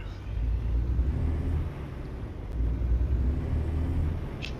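A heavy truck engine in American Truck Simulator, hauling anhydrous ammonia, rumbles low and steady as it pulls away and accelerates, swelling slightly in loudness partway through with no voice over it.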